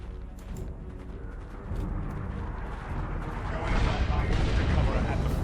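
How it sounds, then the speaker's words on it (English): Artillery barrage fire in the Warhammer 40,000: Chaos Rising video game, a continuous rumble of distant booms and blasts that swells louder toward the end, with voices speaking over it. "Launch barrage! Artillery, clear the area!"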